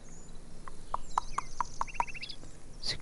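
Chickens cluck in the farming game Farmer's Dynasty on PS5: a regular run of six short, evenly spaced clucks at moderate volume over a quiet farmyard background, with no talking.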